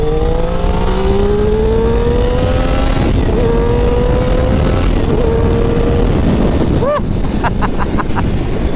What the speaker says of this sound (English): on to the sound test on the street triple then